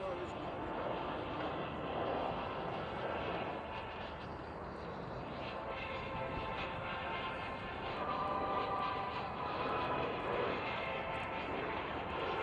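Breitling team aircraft flying in close formation at an airshow at Fairford, a steady broad engine roar at moderate distance, continuous and fairly even in level, with faint commentary underneath.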